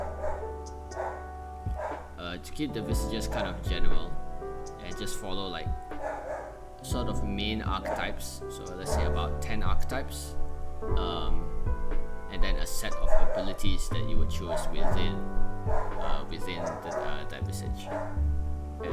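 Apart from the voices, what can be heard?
dog barking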